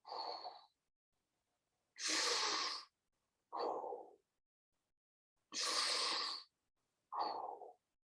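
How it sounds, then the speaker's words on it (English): Slow, deep breaths during a relaxation exercise, two full cycles of audible inhale and exhale with quiet pauses between, close and fairly soft, no talking. "And then breathe in, breathe out"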